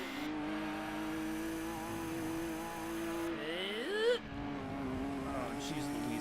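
A BMW 740i cornering in Gran Turismo 2, engine droning at steady pitch then rising and falling through the turn with a brief tire squeal, continuous and close, with a voice talking over it.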